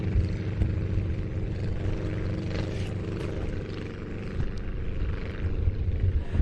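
Aircraft of the Turbulent display team getting airborne at Old Buckenham Airshow 2022, a steady droning propeller engine hum that holds fairly even throughout at moderate distance, with no talking.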